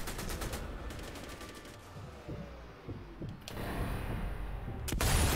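Sniper rifle shots in the video game Sniper Elite V2, a few sharp cracks separated by quiet gaps, with a loud final shot near the end.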